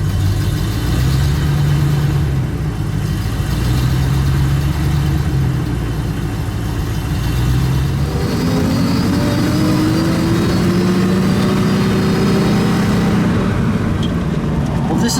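A 1930 Cadillac V16 roadster with a 452 cubic inch engine idles with a low, smooth rumble, then revs up partway through with a rising whine, loud and close, while a voice is briefly heard.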